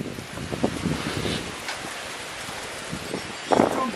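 Strong gusts blow through trees at Mai Pokhari, a rushing, buffeting roar with rustling and heavy microphone rumble, swelling in bursts near the start and end.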